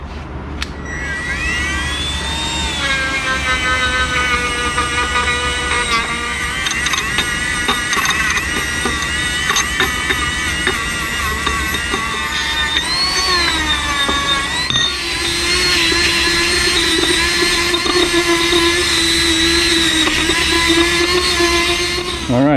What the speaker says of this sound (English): we're going to follow up with the Dremel tool.